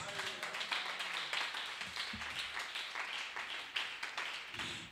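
A church congregation claps and applauds in a dense, continuous patter through the whole stretch, moderately loud, with voices faintly underneath.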